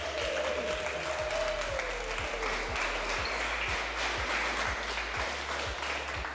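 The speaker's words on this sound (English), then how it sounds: "let's just give one round of applause" A room of people clapping in one round of applause, steady and fairly close, with a rhythmic low thumping beat running underneath and a faint voice in the background.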